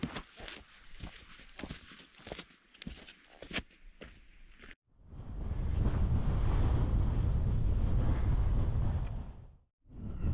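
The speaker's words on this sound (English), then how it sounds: "Bit windy up the top today." Strong wind roaring and buffeting the microphone on a Scottish mountain summit, Beinn a' Ghlo, in a long loud gust after crunchy footsteps, then briefly dropping away before picking up again.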